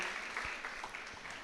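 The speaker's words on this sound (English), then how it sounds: "a big round of applause to everyone who have participated" Applause at a Women's Day celebration organized by a women's cell, a faint, steady patter of many hands clapping heard from some distance, continuing without a break.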